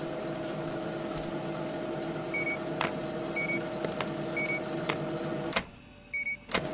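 A vehicle pulling away at a gas station in Gas Station Simulator, a steady engine drone with repeated short beeps and sharp clicks, cutting off abruptly near the end.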